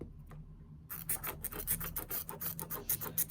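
A pencil or marker scratches short measurement marks onto material, a burst of quick, close rasping strokes starting after a second of quiet, with no talking.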